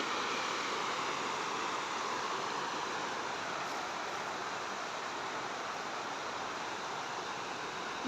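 Water pours over a small overflow weir, a steady, even rushing wash heard from nearby without pause, with no voices over it.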